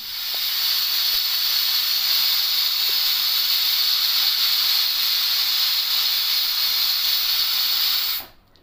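A pressure cooker holding chicken and vegetables whistles, venting steam in a loud, steady, high hiss for about eight seconds before it cuts off abruptly, close up with nothing else heard.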